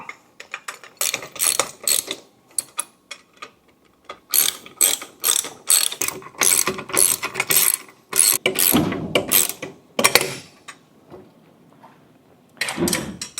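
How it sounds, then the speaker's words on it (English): A 14mm ratchet tightening bolts on a PAKMULE Scout Riser, with bursts of rapid clicking strokes close up, separated by short pauses, loud and alone. "this is when you want to get your 14mm wrench and your 14mm ratchet. Go ahead and tighten these suckers up."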